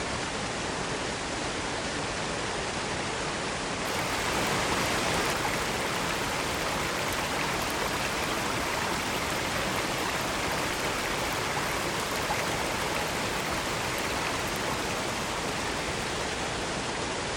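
Water at Powerscourt Waterfall gushes over rocks in a constant, loud, broadband roar that fills the entire span without pause, with no voices.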